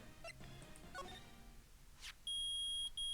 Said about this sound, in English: Nick, it's beeping.